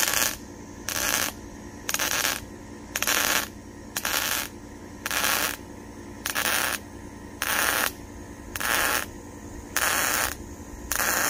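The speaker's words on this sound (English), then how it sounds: "I'm gonna run a bead of weld off the end of this angle real fast" An arc welder runs a bead on the end of a steel angle for a trailer ramp, crackling in regular, evenly spaced bursts of about half a second, with a low hum beneath.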